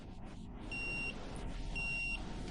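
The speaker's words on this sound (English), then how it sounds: "Then grab your multimeter and set it to the continuity option." A multimeter set to continuity gives two short, clear, high beeps about a second apart during a coffee machine repair, quiet over low background hum.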